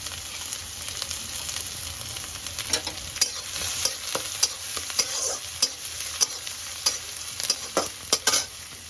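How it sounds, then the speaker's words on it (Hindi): Onion and garlic frying in a pan as the base for a pasta sauce, a steady close sizzle with repeated sharp scrapes and clinks of stirring. "तो यहाँ पे हम पास्ता का सॉस का तैयारी कर रहे हैं, प्याज और लहसुन डाल के भूज रखे हैं"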